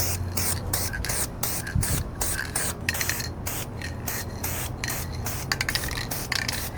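Primer sprayed from a can onto car body kit pieces for a Scion FR-S: a rapid series of short, close hissing spray bursts separated by brief gaps.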